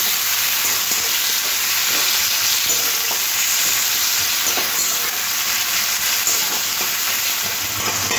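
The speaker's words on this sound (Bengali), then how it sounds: "পেঁয়াজটা তেলের মধ্যে একটু ভাজা ভাজা করে নিতে হবে।" Sliced onions and black cumin sizzling steadily in hot oil in a pan, a continuous close, bright frying hiss with no talking.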